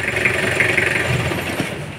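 An engine idles with a steady mid-pitched drone and faint vibration, continuous and fairly close for a brief stretch, with no talking over it.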